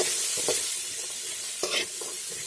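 Cumin and turmeric fry for chana fry in a pan, a steady soft sizzle with a few scraping stirs of a spoon through the spices, close and without talk.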